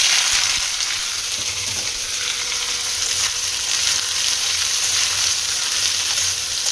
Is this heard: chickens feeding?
no